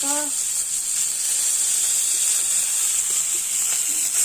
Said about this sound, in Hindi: माँ माछ भाजती